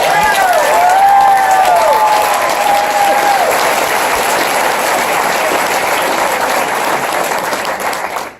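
A crowd at a political meet and greet applauds loudly and continuously, with cheers and whistles over the clapping, easing slightly at the very end.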